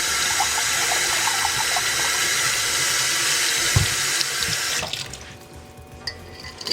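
Lukewarm water runs from a kitchen tap into a sink with a steady gushing splash, then cuts off abruptly partway through, leaving a few faint drips and small clinks.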